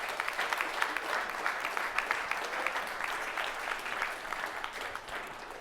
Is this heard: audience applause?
yes